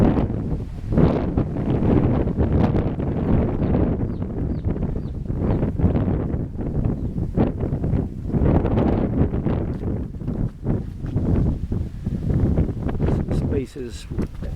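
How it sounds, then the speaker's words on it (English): Strong wind gusts through garden plants, roaring steadily with rustling leaves and heavy buffeting against the microphone throughout. "More examples of the wind just blowing everything around"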